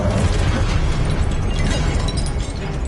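Incendio fire spell cast in the Hogwarts Legacy video game, a dense, steady roaring whoosh of flame that holds loud and continuous for a few seconds before easing slightly at the end.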